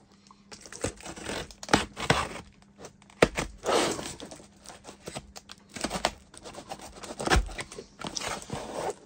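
A ceramic-blade safety knife slices across a taped-up cardboard packet in a string of short scratchy tearing and crunching strokes, close and fairly quiet, with brief pauses between cuts.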